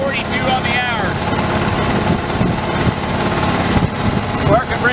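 A John Deere 2653 tractor engine runs steadily at idle with the parking brake on and the PTO engaged, a loud continuous drone close by throughout, with faint whining tones in places.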